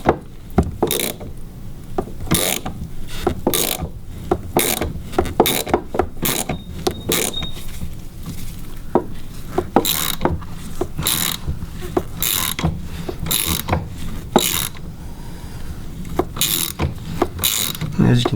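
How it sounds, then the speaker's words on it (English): A ratchet turns a puller on a SeaStar marine steering bracket, a run of sharp repeated clicks in uneven bursts with short pauses between strokes, close and loud, with no speech. "So I'm going to get a ratchet on it and start turning and see if we can break it loose."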